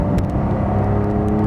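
A 2025 Porsche 911 Carrera T accelerating hard, with a steady, dense engine roar and road rumble heard from inside the car, loud and continuous with no talking.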